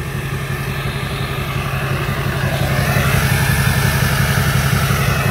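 A 2004 GMC Sierra 2500 Duramax LLY diesel pickup with a four-inch MBRP exhaust idles with a deep, throaty exhaust rumble that swells slightly louder partway through, steady and close.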